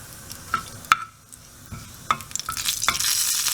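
A ladle scrapes and clanks in a pot of chana dal kuzhambu, a few sharp metallic knocks followed by stirring, then a rising hiss of sizzling ghee with cumin toward the end, close and without talk.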